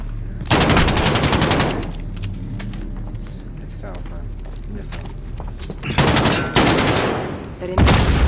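Shotgun and weapon fire in the Call of Duty: Modern Warfare campaign, with loud dense bursts of gunfire at the start and again near the end, and a quieter stretch of talking between them.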